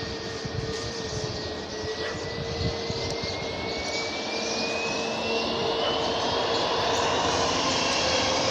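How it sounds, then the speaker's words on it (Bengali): An IndiGo airliner's jet engines at Dhaka's Hazrat Shahjalal International Airport, a loud sustained roar with a rising whine, heard from outside at a steady distance. "না ইন্ডিগো, ইন্ডিয়ার প্লেন"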